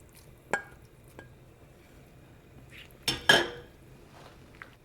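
Beef pieces dropped into a stew pot already holding potatoes, rosemary and bay leaves, giving a few scattered clinks and clatters of metal and cookware, with two louder knocks close together near the end.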